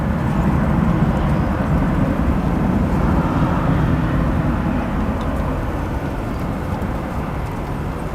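A departing airliner roars at O'Hare International Airport, a loud, steady broadband jet rumble that holds close and full for several seconds before easing slightly.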